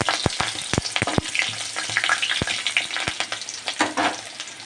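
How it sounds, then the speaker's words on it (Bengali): Whole cumin seeds, two bay leaves and slit green chillies fry in hot oil, giving a loud, busy sizzle with sharp crackling pops and occasional stirring, close up and without talk. "একটু ভাজা ভাজা হয়ে যাক"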